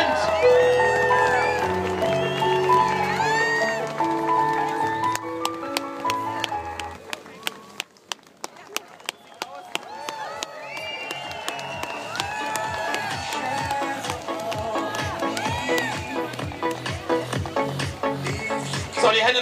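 Crowd at a finish line in Oberwiesenthal clapping and cheering as guests arrive, loud and dense, with music and an announcer's voice over the first half, then rhythmic clapping taking over.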